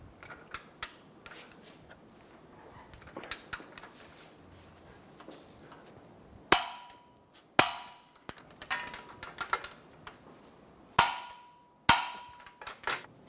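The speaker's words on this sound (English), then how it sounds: "Torque the front control arm bolts to 148 foot-pounds." Front control arm bolts on a 2014–2019 Toyota Highlander are tightened with a torque wrench, giving sharp metallic clicks and snaps, several loud ones later among quieter ratcheting taps and clatter in a workshop.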